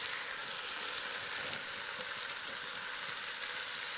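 Coarsely chopped garlic frying in ghee over lowered heat gives a steady, close sizzle with a soft, even hiss throughout and no talking.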